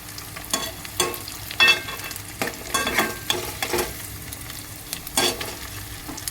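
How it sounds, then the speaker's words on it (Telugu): Eggs frying in a hot pan as a spatula flips them, with a steady sizzle broken by several sharp scraping bursts and clinks, close and fairly loud, with no talking. "చూడండి, గుడ్లు ఇలా తిప్పేసుకోవచ్చు."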